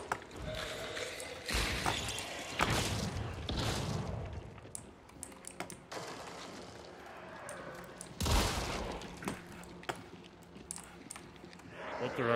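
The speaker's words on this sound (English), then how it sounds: "I'm hearing gunfire pretty close." Gunfire in the Hunt: Showdown video game, several sharp shots and bursts scattered across the stretch at mid distance, with a constant game ambience underneath.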